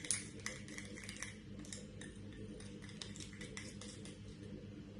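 A small utensil clinks and taps quickly against a bowl as a homemade three-ingredient face serum for a sheet mask is stirred and blended. The clicks come close and irregular, with no talking.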